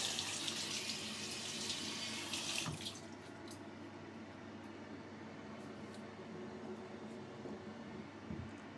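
Tap water runs into a kitchen sink while lamb breast is rinsed, a steady close splashing stream that cuts off after about three seconds, leaving faint room noise and small clinks.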